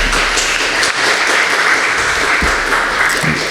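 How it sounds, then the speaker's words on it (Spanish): A lecture audience applauds to welcome an ethnomusicologist to the stage, a loud, steady burst of many hands clapping together that holds evenly throughout, with no one talking. "Hay que recibirlo con fuertes aplausos."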